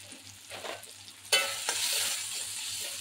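Red chilli powder, turmeric and coriander powder frying with onion in a pan for moth bean usal, a sharp sizzle bursting in after a quieter stir, then a steady close crackle with scraping.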